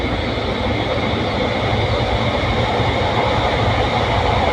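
A train passes close by on the Bargarh to Rourkela rail route, a steady loud rumble of wheels and carriages that fills the whole stretch with no voices.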